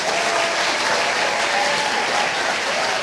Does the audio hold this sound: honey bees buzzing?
no